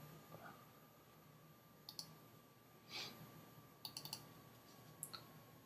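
Several sharp mouse clicks at a computer while slicing an image for a Google+ scrapbook, a single click and then short pairs and clusters spaced across a quiet room with faint background hum.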